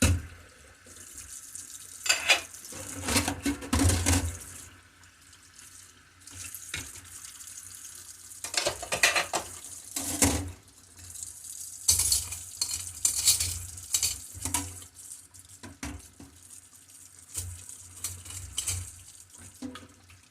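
Dishes are rinsed under a running kitchen faucet, with bursts of splashing water and clinking of plates and bowls, coming and going in irregular spurts without speech.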